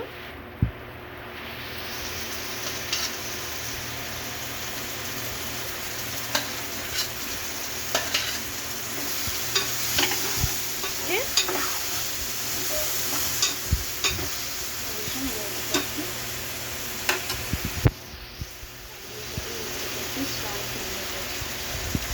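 Boiled French beans frying in a pan with onions, chilli and ginger paste, giving a steady loud sizzle with scattered crackles and stirring scrapes throughout, close up.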